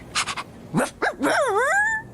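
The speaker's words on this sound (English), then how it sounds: "Now, my dog barked." A dog barks in a radio advertisement: a few quick yips, then a couple of sharper barks, and finally a long, wavering whine that rises and falls, all fairly loud and close.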